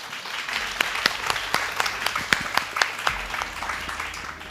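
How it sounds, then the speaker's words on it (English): A conference audience applauds steadily, with many hands clapping at a medium distance and a short burst of talk partway through. "A round of applause for you."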